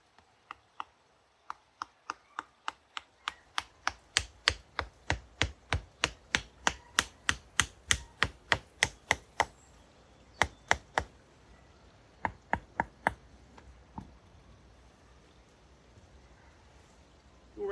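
Wooden pegs, cut to an angled point, are hammered into the ground of a sloped garden bank: a long run of sharp, evenly spaced knocks that speed up and grow louder, then a few scattered final strikes, close by with no talking.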